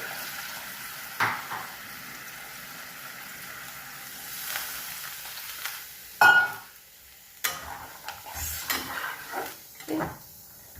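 Fish and okra curry being stirred in a pan on a Bengali home stove, a soft steady sizzle broken by scattered scrapes and clinks of a spoon against the metal pan, with a few sharper knocks toward the end.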